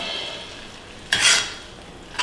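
Baby food with greens is stirred in a pot over a low simmering hiss, with one rushing scrape of the spoon midway and a brief clink at the end.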